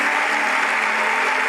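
Steady, dense clapping and cheering from a church congregation during a worship service, continuous and loud throughout with no break.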